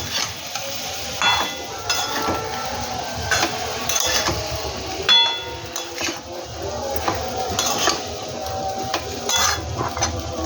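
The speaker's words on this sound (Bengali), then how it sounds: "ভালো করে নাড়াচাড়া করবো" Chicken being stirred in a pan with ground black pepper and powdered spices, cooked in little oil: continuous sizzling and frying with repeated scraping and clinking of the spatula against the pan throughout.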